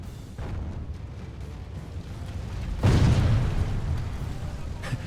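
Mangonels in a medieval siege battle video game hurl stones at walls, a single heavy, deep boom landing midway and rumbling out over a steady bed of low battle noise.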